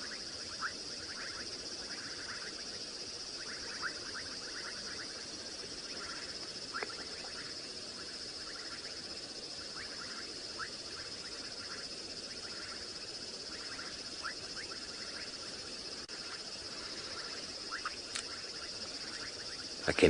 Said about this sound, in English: I can hear some bubbling casino frogs in the background